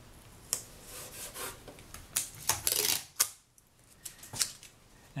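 Paper being sliced with a blade, a weight holding the sheet and edges lined up against tape, giving quiet dry rasping strokes and a few sharper snips, close and alone.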